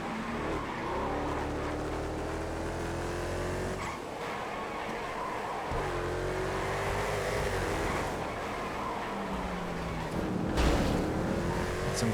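Faggio Supersport scooter engine racing in a video game, a buzzing motor rising and falling in pitch through gear changes and corners, with tire squeals and other cars passing, loud and continuous.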